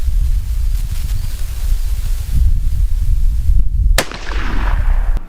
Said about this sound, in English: now we're going to take a few shots and see just how well we did.